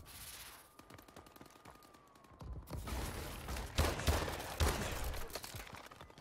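Gunfire in a shooting video game gunfight with an M1 rifle, starting as scattered shots and building after a couple of seconds into dense, overlapping bursts of loud close fire.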